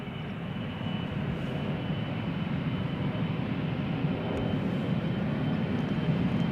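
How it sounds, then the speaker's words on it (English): KLM Embraer 175 airliner at Schiphol Airport, a continuous broad engine rumble and hiss at moderate distance, steady in level throughout. "This is KLM flight 1533 and Embraer 175 going to Teesside or Darlington."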